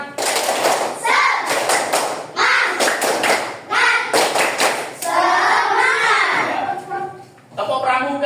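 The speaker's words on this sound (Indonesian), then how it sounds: "tepuk semangat." A class of Indonesian children performing the rhythmic "tepuk semangat" clapping routine, patterned bursts of claps and slaps alternating with children chanting along, close and lively.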